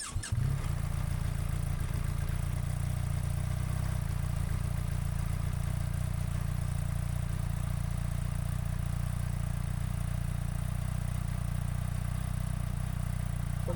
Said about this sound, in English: I'm going to actually start this bike.